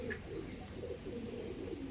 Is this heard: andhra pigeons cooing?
yes